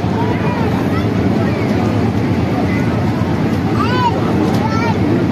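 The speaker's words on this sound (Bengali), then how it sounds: "নৌকাটা পাস হবে।" A boat passes on the river at Dakshineswar, its steady low hum blending with constant wind buffeting the microphone and a murmur of people nearby.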